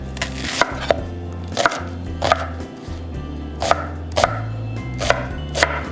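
A kitchen knife chops through onion stem tops on a cutting board for kimchi, landing about ten crisp, separate strikes at an uneven pace, with no talking.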